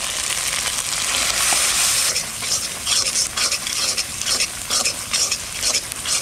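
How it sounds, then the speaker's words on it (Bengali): Spice masala with salt, chili powder and turmeric powder frying in a pan, a loud steady sizzle broken by scraping stirs that come in bursts, with no voices. "মশলা কষানো হয়ে গেছে"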